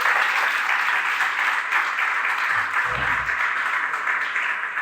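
Steady audience applause at a conference, a dense wash of many hands clapping at even loudness throughout, with no voices over it.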